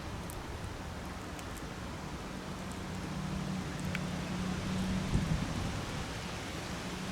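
Steady rain hisses across the whole stretch in the Netherlands, a dense wash of noise with a faint low hum underneath.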